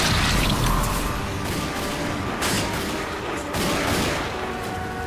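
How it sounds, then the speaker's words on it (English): Heavy gunfire pours at the player in The Darkness 2 co-op, a dense, loud barrage of overlapping shots and blasts that runs without a break, with bursts swelling and easing, no voices heard. "What the heck's shooting me?"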